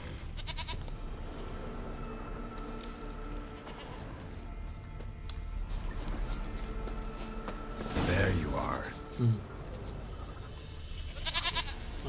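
A goat in the video game The Witcher 3 gives a few short bleats among ambient game sounds and footsteps, while someone talks over it.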